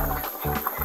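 Thick coconut milk stew with mackerel bubbling and simmering steadily in a pot, a continuous noisy burble with soft pops.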